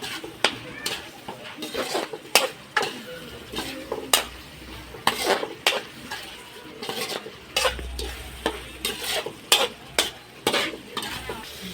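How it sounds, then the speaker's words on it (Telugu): Country chicken curry with green chillies and curry leaves fries in a pan while a spoon stirs and scrapes it. The steady sizzle is broken by frequent sharp clacks against the pan, and a voice is heard at times. "ఇప్పుడైతే ఇది కూడా కలిపేస్తున్నాం."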